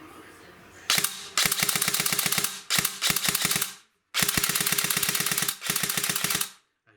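A Tokyo Marui SCAR H airsoft rifle with an M120 spring and double torque gears fires in quick bursts of rapid mechanical clacking, five close, loud strings separated by short silences.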